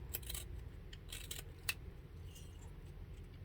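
Scissors snipping excess material from a 1:12 scale dollhouse TV kit piece, a few quick close metallic snips early on, then a sharp click near the middle over a low steady background hum.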